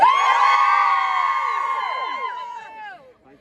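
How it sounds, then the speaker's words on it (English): A group of girls from a junior championship final team lets out a loud, high-pitched shared cheer and whoop close by. It starts strong, holds for a couple of seconds, then trails off into scattered voices and fades. "Right, girls, big cheer, please."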